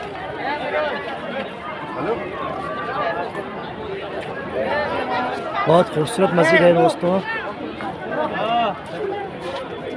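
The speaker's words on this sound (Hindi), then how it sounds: "और भीड़ देखिए आप, कितनी भीड़ है यहाँ पर।" Dense crowd chatter and footsteps fill the courtyard of Jama Masjid in Delhi, a steady babble of many voices with someone narrating close over it.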